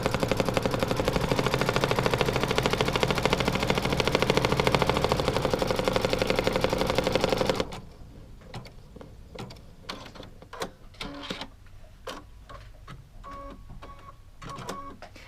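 Embroidery machine stitching a trapezoid placement line on a quilt block, a loud dense rapid mechanical chatter for about half the time, then stopping abruptly, leaving quiet scattered clicks and handling noises.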